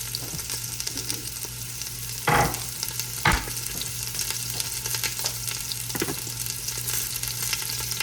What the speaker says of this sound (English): I'm going to saute some onions and some of these different color peppers in here to season that kale